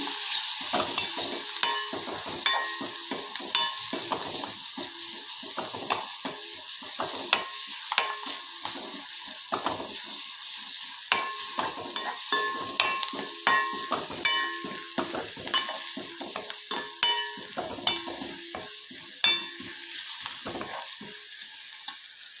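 Frying and browning in a pan for a Kerala-style thalu curry, a steady close sizzle with frequent sharp crackles and spatters running throughout, no voices.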